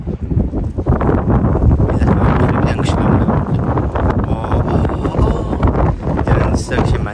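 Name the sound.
wind blowing into the microphone outdoors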